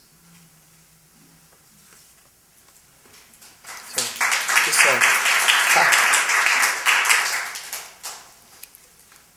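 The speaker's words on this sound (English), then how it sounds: "it's so lovely that y'all clap after every poem" Audience at a poetry reading claps after a poem, applause rising from near silence into a full crackling round of many hands, then tapering off, with a brief spoken word at the start.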